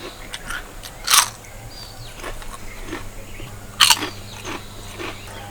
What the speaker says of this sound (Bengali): চলুন এবার আমি একটা খেয়ে আপনাদের বলি এই পাঁপড়ের স্বাদটা কেমন